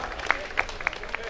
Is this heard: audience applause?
yes